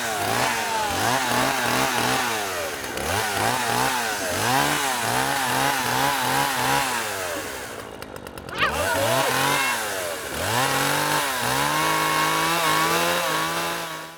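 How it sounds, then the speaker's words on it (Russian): A chainsaw runs close by, its two-stroke engine revving up and down repeatedly in short bursts with a brief drop near the middle before climbing back to a steady, loud high idle. "У Лоретты есть бензопила, которую тоже зовут Лоретта"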